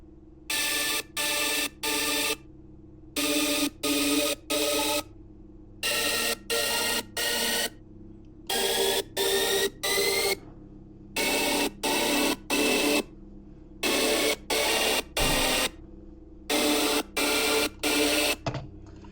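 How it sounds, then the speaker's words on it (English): Synth pad section from the first half of an electronic music drop, playing in repeated groups of three chopped, sustained chord bursts separated by short silences, bright and evenly loud. "It is the entire pad section from the first half of the drop"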